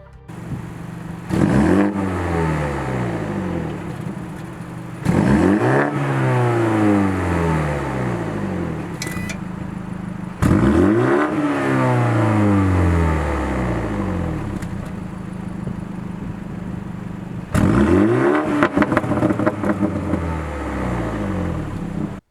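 A 2022 BMW M235i's exhaust in Sport Plus mode revs hard in four loud bursts, each rising and falling with crackling pops, separated by short idle gaps.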